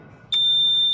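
An LD32 water leak alarm in an office block starts after its test button is pressed, giving a short click followed by a loud, steady high-pitched electronic tone that continues without a break.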